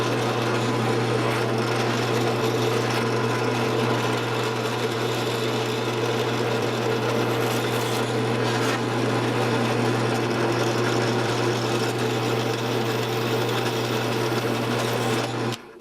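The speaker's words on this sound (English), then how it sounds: "so we've got our holes drilled" A power drill runs continuously while holes are drilled into the body of a DIY guitar, a steady motor hum with grinding, rasping texture through the wood, close and loud, ending abruptly near the end.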